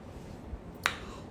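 A single sharp finger snap rings out close and crisp against a quiet, slightly hissy room background, with nothing else around it.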